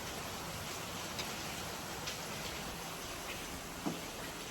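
Heavy downpour during a typhoon-strength storm, heard as a steady, dense hiss with occasional faint drip ticks, distant and fairly quiet, with no voices.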